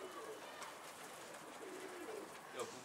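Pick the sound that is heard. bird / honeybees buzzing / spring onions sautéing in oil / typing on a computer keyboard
bird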